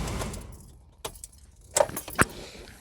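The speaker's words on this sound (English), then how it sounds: "I'm gonna go ahead and turn off the vehicle" Keys jangle in the ignition of a Volkswagen Jetta as its engine is switched off, a soft idle fading out before a few short, bright metallic rattles and clinks close by, with no talk.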